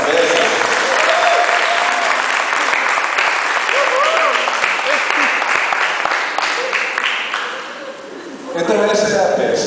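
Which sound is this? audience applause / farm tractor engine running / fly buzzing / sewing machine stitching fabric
audience applause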